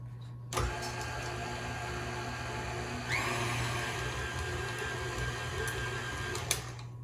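An electric stand mixer works a dough for homemade dog treats in a kitchen, a steady motor whine and hum that runs continuously, with a shift in pitch partway through and a couple of light knocks.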